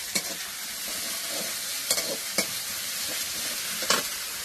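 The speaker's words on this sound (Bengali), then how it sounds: "তারপরে আমি সবজি দিয়ে দিব।" Hilsa fish and ginger-garlic paste fry in a pan on a clay stove, a steady close sizzle with a few sharp stirring clatters as vegetables go in, cooked without spices.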